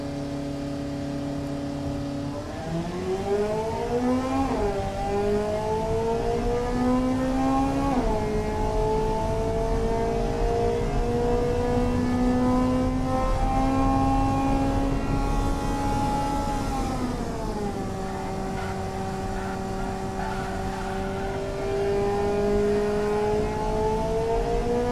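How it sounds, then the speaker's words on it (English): Simulated engine of a car lapping a test track in the car-building game Automation, a steady loud drone that rises and falls with gear shifts and throttle changes throughout, with no talking. "you can physically watch your car go around the track and see how it does performance-wise"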